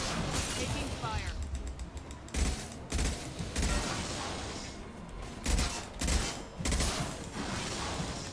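Gunfire rattles in Mass Effect 2 as repeated bursts of shots crack and clatter among mechanical game noises, with a few louder thumping impacts standing out.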